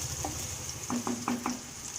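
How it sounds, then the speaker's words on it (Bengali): Potatoes frying in a pan for a cabbage dish, giving a steady soft sizzle broken by a few quick scraping stirs and clinks. "আলুটা একটু ভাজা হোক।"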